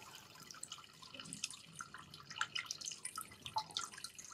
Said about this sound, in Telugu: ఆ వాటర్ సౌండ్ కూడా మనం అబ్జర్వ్ చేసి నేను మీకు వినిపిస్తాను చూడండి.